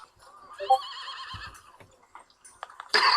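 A horse in a video game lets out a clear whinny with a wavering, quavering tone, followed by a few faint drips and clops and a brief burst of noise at the end.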